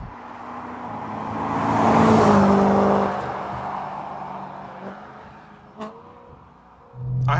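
A V8-powered BMW 1M drives past, its engine swelling loudly as it approaches, then fading into a distant whir, followed by a few brief thumps and a renewed engine rumble at the end.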